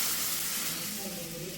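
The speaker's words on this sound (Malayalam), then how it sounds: "പാൽ ഇതിലേക്ക് ആഡ് ചെയ്ത് കൊടുക്കുക." Milk poured into a hot pan of roasted semolina for a sweet snack, bursting into a loud, close sizzle and steamy hiss that eases off slightly over a second and a half.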